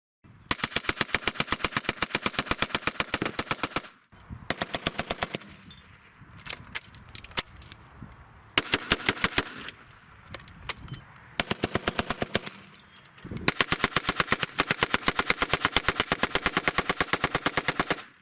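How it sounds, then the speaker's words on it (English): Vickers medium machine guns fire in long, rapid bursts of loud, evenly spaced shots, broken by brief pauses with scattered crackling and clatter, with no speech. "and 108 Vickers medium machine guns. A huge volume of fire."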